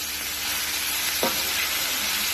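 Pork belly fries in a pan with fried tofu and boiled blood being added, a steady loud sizzle with a brief scrape of stirring partway through, no voices.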